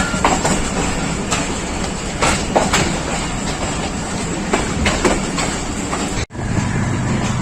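The Farid Express passenger train of Pakistan Railways runs on the rails between Lahore and Kasur, a loud, steady rumble with rhythmic clickety-clack of wheels over joints, heard up close from inside, then a brief cut near the end.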